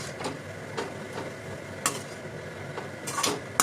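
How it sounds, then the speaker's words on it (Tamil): A spatula stirs homemade fried rice with crushed pepper in a pan, making scattered soft scrapes and clicks over a quiet kitchen background. No one speaks. "இது எல்லாத்தையும் நான் நல்லா கிளறி விட்டுறேன்"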